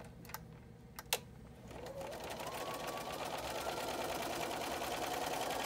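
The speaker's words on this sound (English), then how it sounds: "turn them and stitch the other diagonal line" Sewing machine stitching a diagonal line across quilt fabric pieces for a bowl cozy: a few sharp clicks, then a steady, fast mechanical whir running close and even to the end.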